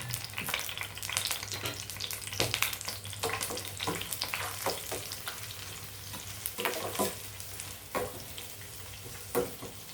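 Sliced large onion frying in hot oil gives a continuous soft sizzle, with clattering stirs and occasional sharper pops throughout, and no voices.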